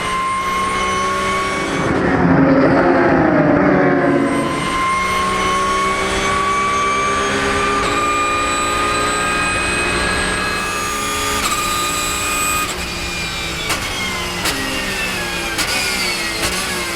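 Porsche race cars at a Roscar race at Nogaro pass and accelerate on the track, engines rising in pitch through gear changes, loud and sustained with overlapping whines.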